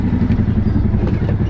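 Tuk-tuk engine runs loud and close while riding near Lake Atitlan, Guatemala, with a rapid throbbing putter and light rattling clatter.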